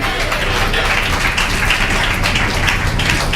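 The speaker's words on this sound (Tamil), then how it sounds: "புரிஞ்சவங்க கைதட்டுங்க" A church congregation bursts into loud, dense applause during a faith sermon, with steady sustained clapping from many hands close by.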